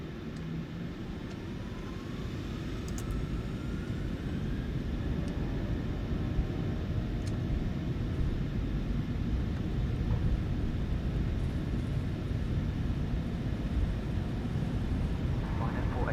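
A Ryanair airliner in Microsoft Flight Simulator 2024 rolls for takeoff, a broad, steady engine roar building slightly over time, while radio voices speak over it.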